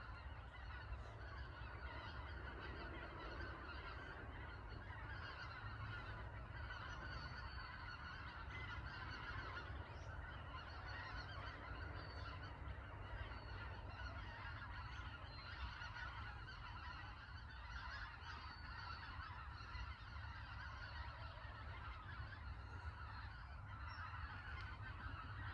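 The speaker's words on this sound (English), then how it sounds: "Can you hear those beautiful birds coming through?" Geese honk steadily overhead as a flock flies across the sky during a morning walk outdoors, the calls continuous and moderately distant over a soft background hum.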